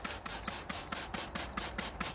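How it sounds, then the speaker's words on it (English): Rhythmic back-and-forth rasping of wet sanding the paintwork of a Daihatsu Materia car, about ten even strokes, close and fairly quiet with no talking. "Right, let's get sanding."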